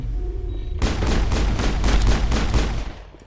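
A 12-gauge shotgun fires in the Mass Effect video game: a sudden loud blast opens a dense run of rapid gunfire bursts in regular pulses that fade out after about two seconds.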